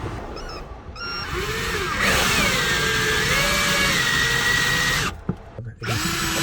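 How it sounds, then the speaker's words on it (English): A power drill whirs steadily and loudly up close, its pitch rising and falling as it bores through a van's metal body, then stops briefly before starting again. "We are going to drill this in wherever it wants to sit naturally."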